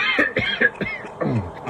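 A short run of quick, close coughs, several bursts in rapid succession, each slightly voiced and raspy.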